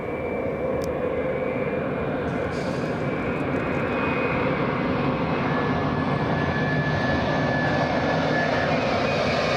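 All Nippon airliner arriving at Los Angeles International Airport, a loud sustained jet engine roar with a faint high whine, steady and close throughout.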